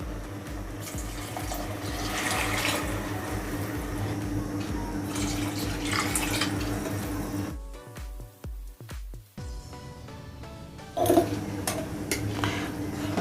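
Water pours into a cooking pot of rice for South Indian tomato pulao, a steady splashing fill over rhythmic low thuds, then a few clinks and a pause before the pouring resumes, close and moderately loud.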